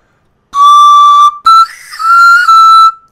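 A pan flute played with half-tonguing on a Korean song, a clear breathy high tone held, briefly cut, then sliding through a soft, half-sounded passage before settling on a steady note, loud and close with no talk.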